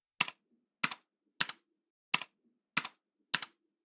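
A password is typed on a computer keyboard as six separate, crisp key clicks, unevenly spaced and close up, in an otherwise silent room.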